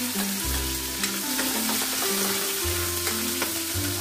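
Garlic, onion and green chili frying in a pan, a steady close crackling sizzle with occasional utensil taps and a low tonal hum underneath, no talk.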